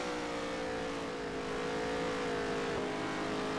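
A race car engine in the NASCAR Heat game holds a high, sustained whine at speed, its pitch dipping slightly toward the end as it moves through a corner, loud and constant with no voices.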